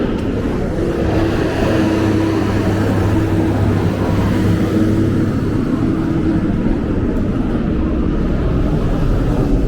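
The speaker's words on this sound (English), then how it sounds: "we shouldn't have a lot of this noisy tractor traffic" Heavy traffic rumbles along Flatbush Avenue in Brooklyn, big trucks and tractor-trailers grinding past with a loud, continuous low engine drone and a steady tonal hum, no voices over it.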